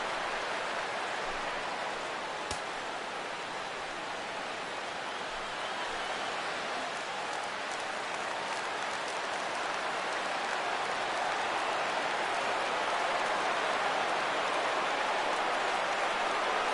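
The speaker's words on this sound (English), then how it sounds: "Crowd gets up for the 3-2." Steady, dense roar of a baseball stadium crowd cheering on a full 3-2 count with two outs in MLB 16 The Show, continuous and loud throughout without a break.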